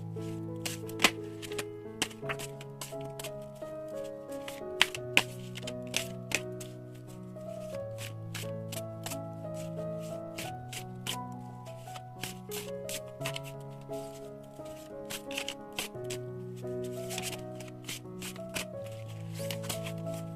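Tarot cards are shuffled and drawn, giving soft papery riffles and flicks with sharp taps throughout, heard faintly beneath steady background music.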